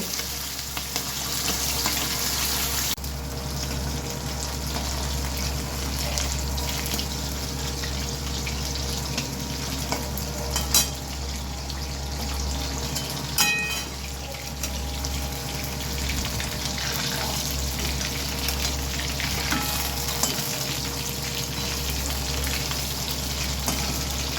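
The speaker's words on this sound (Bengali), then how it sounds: "পমফ্রেট মাছগুলো ভালো করে এপিট ওপিট করে ভেজে নেব।" Pomfret fish frying in hot oil in a pan gives a steady, loud sizzle that runs unbroken from start to finish, with a few faint clinks from the pan or utensil.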